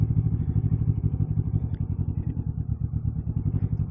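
A big Harley-Davidson motorcycle being ridden on a full tank, its engine throbbing in a steady, close, loud pulsing rumble with no talk over it.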